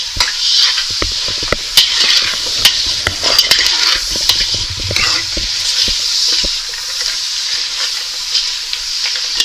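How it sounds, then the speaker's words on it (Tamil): Onions sautéing in a pan for mutton dalcha, a continuous close sizzle with scattered sharp clicks and scrapes of stirring throughout, no talk. "கொஞ்சம் வெங்காயம் வதங்கட்டும்"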